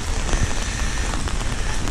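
Steady rain patters on surfaces close by in Avilés, Asturias, on an overcast morning, a dense continuous hiss of drops with no voices.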